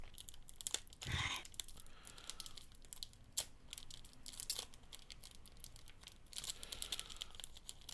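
A trading card booster pack is torn open by hand without scissors, giving scattered crinkling, rustling and ripping of foil wrapper, close and fairly quiet, with one louder tear near the start.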